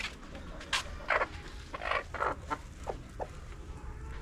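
A hen near a nest of eggs in a poultry coop lets out a series of short, close clucks in scattered bursts over a quiet background.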